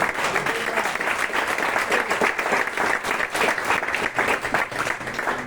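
Loud, sustained applause from a large church congregation, dense steady clapping filling the room without pause.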